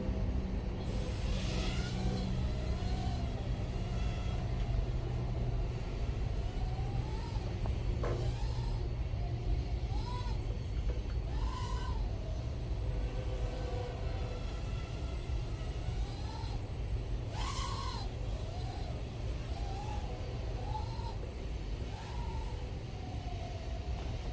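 A URUAV UZ80 one-cell micro drone's tiny motors whine in flight, a continuous buzzing drone that rises and falls in pitch with repeated quick throttle bursts throughout.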